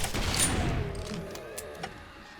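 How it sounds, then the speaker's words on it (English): Pulse rockets fire in 7 Days to Die with the Darkness Falls mod during a horde night: a loud burst of rapid blasts that fades into a rumbling tail and a few scattered later pops. "I'm gonna use my pulse rockets"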